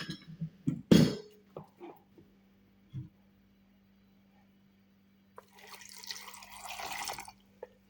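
Water runs from a tap into a container in a kitchen, where peach, nectarine, ginger and strawberry are being prepared, as a soft splashing stream for about two seconds near the end, following scattered clatter and quiet pauses.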